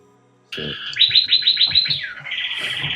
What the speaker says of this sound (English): Can y'all turn your parrot down?